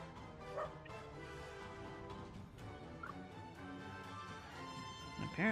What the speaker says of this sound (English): He's a barky boy today, I'm sorry.